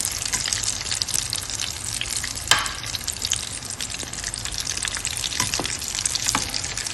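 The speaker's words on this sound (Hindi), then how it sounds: "हो रहे फ्राई ऑयल में ग्लूटेन फ्री वाले वड़े।" Gluten-free aloo vadas deep frying in hot oil give a steady, fairly soft bubbling sizzle with a few sharper pops and clicks, heard alone without talk.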